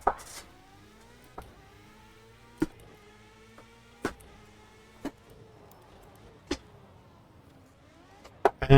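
A race car in a sim racing game with its engine whining and rising and falling in pitch through the gears, punctuated by sharp clicks and thumps every second or so.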